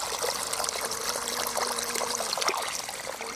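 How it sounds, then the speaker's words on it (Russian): Water running from a garden hose laid into a strawberry bed, a steady close trickling and gurgling flow with no talk. "И я просто опускаю шланг, вот как шланг, в грядку клубники."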